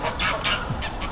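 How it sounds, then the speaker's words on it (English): Canada geese fighting beside the Thames, harsh honks and squawking calls bursting in quick succession at moderate distance amid outdoor background noise. "We got some Canada Goose faction fighting going here."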